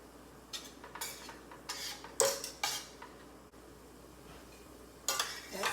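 Pepper, garlic powder and onion powder stirred together in a dish, a spoon scraping and clinking against the bowl in several short, loud bursts separated by quiet gaps.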